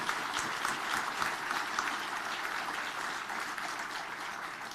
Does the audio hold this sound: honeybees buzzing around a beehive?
no